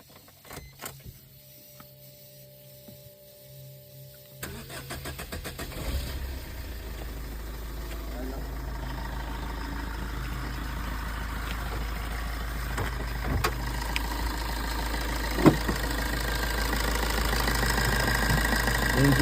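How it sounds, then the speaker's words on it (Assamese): A used second-hand car for sale in Guwahati sits quiet with faint clicks, then its engine cranks and catches and settles into a steady, close idle hum that continues to the end. "এতিয়া গাড়ী মই ষ্টাৰ্ট কৰিম।"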